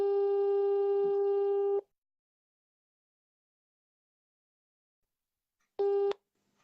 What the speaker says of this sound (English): I'm calling you on WhatsApp so we can hear you